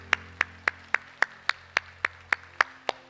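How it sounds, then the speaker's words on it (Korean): Church congregation clapping in unison after a closing prayer, about eleven sharp, evenly spaced claps over three seconds, close and fairly loud against a low steady hum. "우리 하나님께 영광의 박수 합시다."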